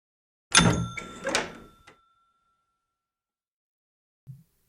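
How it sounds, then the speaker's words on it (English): A shop door with a bell hung above it, at a pancake shop, opens with a bright jingling chime and a short clatter, then rings out and fades into silence, followed by a faint soft knock. "The bell above the door to Millie's pancake shop rang as the door slowly crept open."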